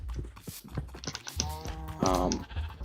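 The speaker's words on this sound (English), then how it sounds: "over here I have my other goat, Mr. Barbano" A goat in the Minecraft video game bleats twice in quick wavering cries, mixed with clicking keyboard and game sounds under light talk.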